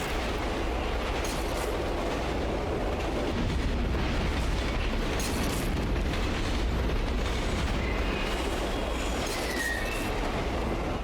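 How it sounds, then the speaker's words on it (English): In the video game Condemned, a speeding train gives a loud, continuous rumbling roar, with screeching brakes, sparks and bursts of metallic squeal rising over the clatter throughout. "the train speeding faster than your average video game train, all the effects happening with the brakes and the sparks and the sound design"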